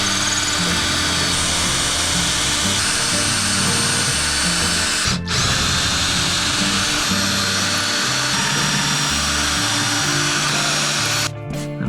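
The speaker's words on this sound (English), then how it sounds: "I might have drilled some holes in the table" Power drill fitted with metal bits boring into a wooden table, a loud, sustained whine with brief pauses where the motor cuts out before spinning up again.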